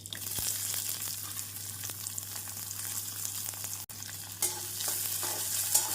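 Chopped onions hit hot oil with toasted cumin seeds in a pan for potato-stuffed paratha filling, giving a steady, close sizzling hiss with a low hum underneath and occasional stirring scrapes, no talking.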